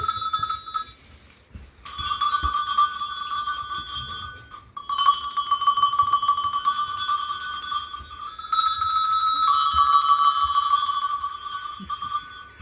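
Hand bell rung repeatedly outdoors at a woodland wassail, bright ringing peals in several bursts separated by short pauses, fairly close and loud.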